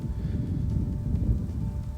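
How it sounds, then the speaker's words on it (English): Steady low rumbling buffets of strong wind batter the microphone, a dense continuous roar with no voices. "It's really windy out today."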